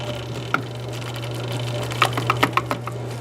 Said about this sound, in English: Just keep whisking.